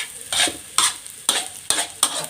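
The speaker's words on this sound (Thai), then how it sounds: "เราก็ผัดคลุกเคล้าให้เข้ากัน" A spatula scrapes and tosses fermented fish fried rice in a hot sizzling pan, with about five distinct rhythmic stirring strokes close up and no talk.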